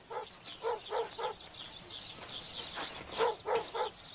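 A guard dog in rural Albania barks in two clusters of sharp, evenly spaced barks, four then four more, at moderate distance with faint chirping birds in the background.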